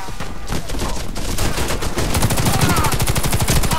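Rapid automatic gunfire from a gun in the shooter game Warface, a loud, steady stream of shots that grows denser and more rhythmic toward the end.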